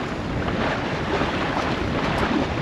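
Sailboat under sail on open water in the Gulf, steady roaring wind buffeting the microphone over continuous rushing water, loud and unbroken with no voices.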